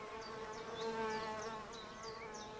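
Solitary bees buzz around a garden wall in a faint, steady hum with small rising and falling swells as insects pass nearby, with no talk.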